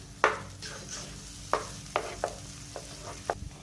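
A spoon stirs tomato paste with turmeric, crushed chilli and salt in a pan, producing a series of distinct scraping clinks at an irregular pace over a low sizzle, with no voices.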